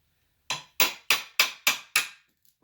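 Old, cracked wooden trim around a window is pried loose in six sharp, evenly spaced cracking snaps, each loud, close and quickly fading, followed by a couple of faint ticks.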